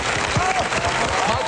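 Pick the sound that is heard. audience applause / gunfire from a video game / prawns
audience applause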